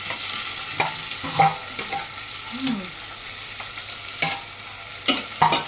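Curry sizzling and frying in a pan in a home kitchen, a steady bright hiss with occasional stirring scrapes and pops over several seconds, close and fairly loud with no talk.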